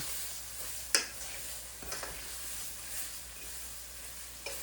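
Onions cooking down in a pan for hamburger steak, a steady soft sizzle and hiss with a sharp utensil tap near the start and a few faint stirring clicks.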